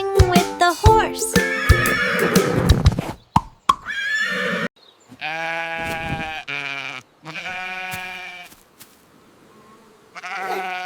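A horse neighs and whinnies several times within a children's nursery-rhyme farm animal song, with bright, loud, wavering calls separated by short pauses over musical backing.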